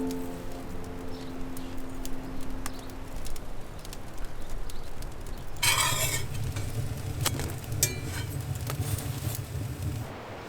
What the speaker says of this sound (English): now I'm frying them on the pan